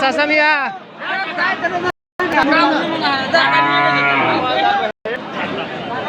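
Cattle moo repeatedly in long, drawn-out calls over a crowded, noisy livestock market with people chattering throughout, with two brief silent breaks.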